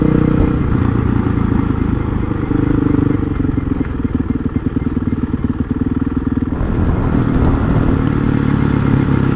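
A Honda CRF 450 motard motorcycle being ridden, its steady loud engine drone with clattering pulses continuing throughout, close to the rider, with a few muffled voices underneath.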